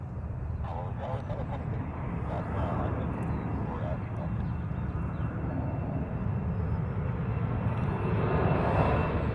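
A Hawaiian Airlines airliner departs Honolulu airport, its broad jet engine roar steady and fairly distant, swelling slightly toward the end, with faint voices talking over it.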